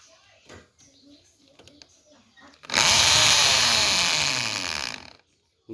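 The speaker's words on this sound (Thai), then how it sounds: "สว่านนั้นมันตอกไปป่ะเดี๋ยวพี่ดู ดิ เองปรับตอกไปป่ะปรับคอนไปป่ะ" An electric drill set to hammer mode, used while repairing a torn rice-mill sieve screen, roars loudly and steadily for about two and a half seconds. Quieter handling noises and voices come before it, and it stops abruptly.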